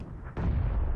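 A single heavy gunshot fires in the battle royale game PUBG, a sudden loud blast about a third of the way in that rolls into a sustained booming rumble.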